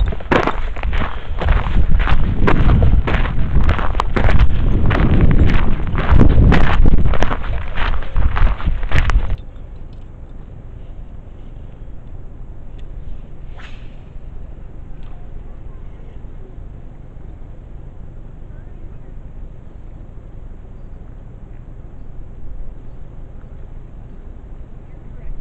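Strong wind gusting at a desert canyon lake in Idaho, a loud buffeting roar against the microphone for the first nine seconds, then dropping to a quieter steady rush for the rest.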